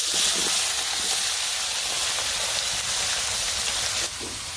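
Marinated meat frying in hot oil in a large wok, a loud, dense sizzle and hiss that stays constant, then drops abruptly near the end.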